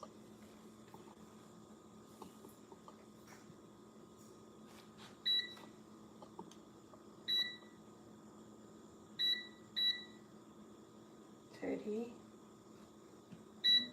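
An air fryer being closed and set to about 45 minutes gives a series of short, clear electronic beeps spaced a second or two apart over a quiet room hum.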